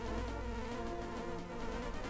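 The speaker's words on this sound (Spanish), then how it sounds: "¡Abeja!" A buzzing bee in the Zelda: A Link to the Past video game gives a steady, continuous drone that fills the whole moment at even loudness, with no talking over it.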